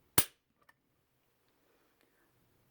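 The trigger of a Glock 45 pistol breaks once on a trigger pull gauge, giving a single sharp, close click in near silence, followed by a couple of tiny faint ticks.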